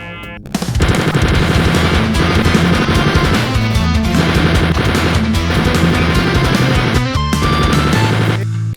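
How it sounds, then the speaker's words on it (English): Chain gun firing nonstop in the video game Wolfenstein 3D: a loud, rapid stream of rattling shots lasting several seconds, with a brief break near the end before the burst resumes, and no voices. "the chain gun just goes burr"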